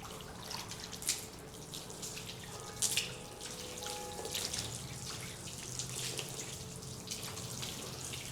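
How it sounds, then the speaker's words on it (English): Water splashes and patters steadily onto a car body panel, with a few louder bursts of spray, close by and with no talking. "Let's go ahead and apply some water to the panel"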